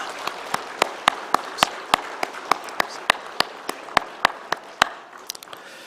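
Congregation applauding at a memorial church service to welcome visiting guests, a steady run of sharp, evenly spaced claps carrying on for several seconds before tapering off.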